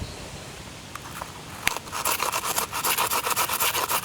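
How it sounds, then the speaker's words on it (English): A brush scrubs deposits off the front brake pad bracket of a Lexus UX, starting with a few light scrapes and then a steady run of rapid, rhythmic bristle strokes, close and clear, no talking. "Just use the brush to remove the deposits."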